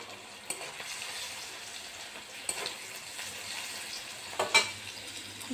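Nigella seeds, garlic, onion and tomato sizzle gently in a pan as the base for a mustard hilsa curry, a low steady crackle with a few soft clinks and stirring scrapes, close by with no voices.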